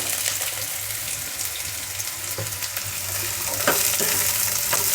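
Small chopped carrot pieces tipped into a hot pan of vegetable fry and stirred, giving a continuous close sizzle with light scraping and a few knocks of the spoon, no talk.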